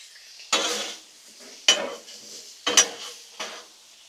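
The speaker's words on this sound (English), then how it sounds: "just get in there and make a lot of noise and clang things together" Four sharp metallic clangs of utensils against a Blackstone griddle while cooking beef and broccoli, spaced about a second apart, fairly close with a faint sizzle underneath.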